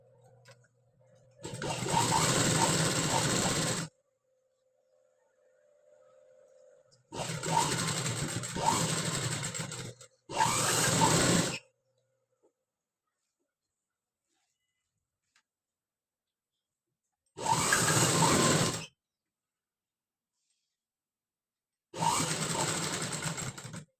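Sewing machine stitching the back part of a high collar neck, running in five separate bursts of steady whirring, each a second or a few seconds long, with silent pauses between them.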